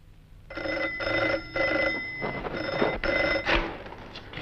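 A telephone bell rings in repeated bursts, about four loud rings separated by short gaps, close by, followed by a brief clatter as it stops.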